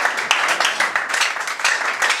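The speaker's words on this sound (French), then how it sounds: "Est-ce qu'on peut applaudir pour le Seigneur?" An audience claps together at a Christian gathering on political engagement, a dense, fairly loud patter of applause sustained throughout, with no speech over it.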